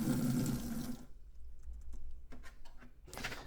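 Water gushes from the drain of a home electric water heater tank into a bucket, a loud rushing pour for about a second, then dripping and trickling before a second burst of flow.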